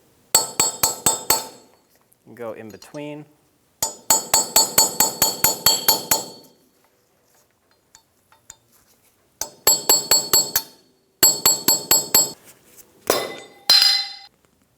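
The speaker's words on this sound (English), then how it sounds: "I'm going to use a flat chisel and a hammer." A flat chisel struck by a hammer pries off the hub cap on a 2000-2006 Toyota Tundra front wheel, ringing metallic taps in quick bursts of repeated blows with pauses between, and a brief spoken word midway.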